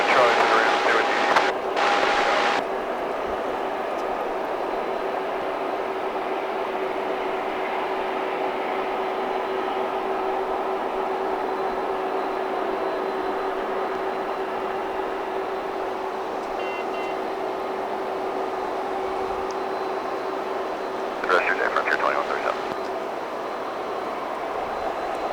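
A UPS Airbus A300 cargo jet from 2005 at DFW airport gives off a steady, sustained engine roar with a constant whine, with a brief burst of extra noise near the end and radio chatter in the background.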